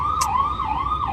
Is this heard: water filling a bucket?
no